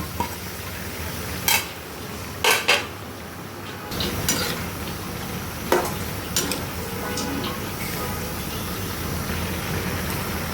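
Chatpati with tamarind sauce and grated boiled egg stirred in a pot, a few sharp spoon knocks against the metal followed by a steady soft scraping and low sizzle.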